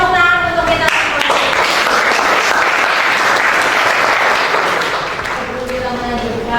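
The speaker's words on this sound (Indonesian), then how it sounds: "beri tepuk tangan untuk kita semua" A vocational high school classroom breaks into sustained, dense applause that fills the room for several seconds, with a voice briefly heard at the start and end.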